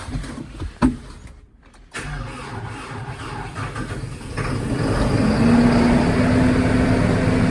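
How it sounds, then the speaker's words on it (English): A tractor engine cranks after a brief click and pause on a frozen morning with -18F wind chill, then catches and settles into a steady, rising idle hum nearby. "here's hoping the tractor's starting this morning"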